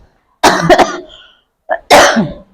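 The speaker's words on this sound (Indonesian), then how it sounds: "batuk terus" Loud, close coughing in two bursts, several harsh hacks, then a pause and another heavy cough.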